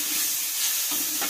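Sauce with salt and seasoning being stirred in a pan for kwetiau siram, a continuous close hissing sizzle with soft stirring scrapes throughout a short moment.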